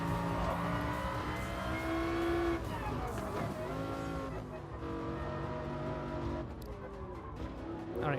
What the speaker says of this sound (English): Oh, it sounds good. Massive, almost 7-liter V10.